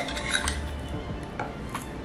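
A spoon scooping sugar into henna powder in a bowl, several light metallic clinks and scrapes close by, with no talking.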